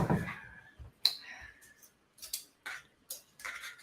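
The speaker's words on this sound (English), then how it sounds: "let me get my scissors." Several short, crisp snips and clicks of scissors cutting packaging, irregularly spaced, close by and fairly quiet, with faint rustling between cuts.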